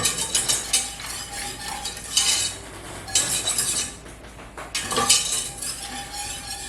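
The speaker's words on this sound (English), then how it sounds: "And just going to whisk this until it thickens." A whisk scraping and clinking against a metal pot as a cheese sauce with evaporated milk thickens, bursts of rapid stirring broken by brief quieter pauses, close up with no talk.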